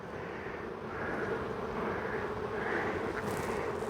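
Honey bees buzz around an open hive during an inspection, a soft continuous droning hum of many wings nearby that swells slightly as it goes.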